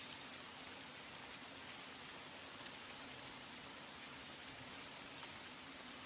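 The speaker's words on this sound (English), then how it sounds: "Hallelujah, it's raining." Steady rain falls throughout, a dense broadband patter of drops on surfaces that stays even in loudness from start to finish with no voices.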